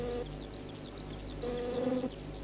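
Honeybees buzz close by with a steady droning hum that swells louder near the end, while faint bird chirps repeat in the background.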